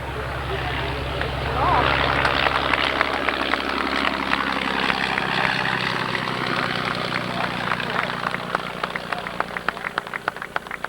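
A radio-controlled model airplane with a slow-turning motor and high-lift wings climbs at full power at a 1993 RC aero jamboree at Old Rhinebeck. Its steady propeller drone fades as it climbs away, with human voices present over it.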